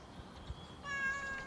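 A cat meows while being teased, one short faint meow after a few soft background bumps, close by and heard alone.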